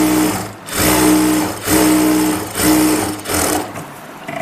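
A sewing machine stitching a palazzo runs in four or five close bursts of rapid mechanical whirring, with brief pauses between runs, loud and near with no talk.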